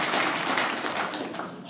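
A comedy club audience claps briefly, a dense, soft wash of hands at moderate distance that tapers off slightly toward the end, with no talk.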